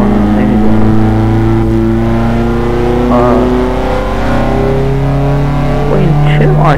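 A Kia Cerato revs hard in Assetto Corsa, its engine note climbing steadily in a loud, close, continuous drone, with faint talk underneath.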